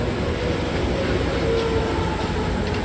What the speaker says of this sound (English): we're watching the Metro Mover zoom by